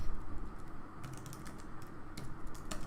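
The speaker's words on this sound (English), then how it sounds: "Here I'll just type hello there and I'm gonna type welcome" Computer keyboard typing during a web programming HTML/CSS/JS class, a quiet run of rapid clicking keystrokes in short bursts with a pause between, close and alone without talk.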